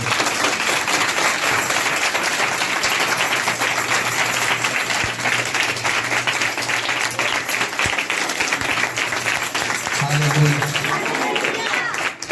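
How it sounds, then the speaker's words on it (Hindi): A worship congregation at a Sunday meeting claps loudly and steadily throughout, a dense sustained wash of hands with crowd noise and voices mixed in. "जोर से अपने पिता के लिए जोर से ताली बजाएं।"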